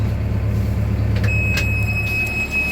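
A vehicle drives on a dairy farm in cold weather, its low engine rumble loud and steady and close, with a thin high whine and a few brief clanks on top.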